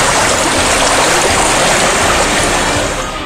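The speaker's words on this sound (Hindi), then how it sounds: "ऐसे में इतनी ऊंची लहरें उठना कोई सामान्य घटना नहीं है" High, roaring waves on the Siang river churn as loud, continuous broadband rushing water, steady and close throughout with no voices.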